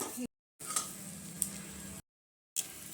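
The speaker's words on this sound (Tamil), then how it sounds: "மசாலையை போட்டு கொஞ்சம் கிளறி விடுங்க." Masala for a traditional lentil-ball kuzhambu fries on low heat and gets stirred in a pan, a steady soft sizzle with scraping stir strokes, broken by short gaps of silence.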